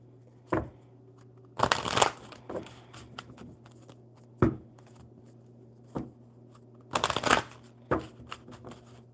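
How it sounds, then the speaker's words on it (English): Oracle cards are shuffled by hand in several close, crisp bursts of riffling and flapping, separated by quieter pauses with occasional single taps and a low steady hum underneath. "Let's shuffle the oracle and see what is going on."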